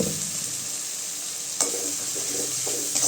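Ground tomato sautés in oil for country chicken gravy, a constant hissing sizzle with a couple of brief stirring scrapes breaking through.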